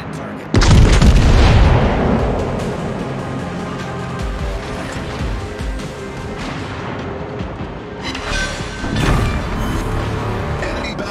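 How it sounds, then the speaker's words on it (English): Heavy battleship guns fire at a target in a naval video game: a loud, sudden boom opens, its rumble decays over several seconds, then a second blast follows near the end, with ocean and engine noise underneath. "All stations requesting fire on the designated target."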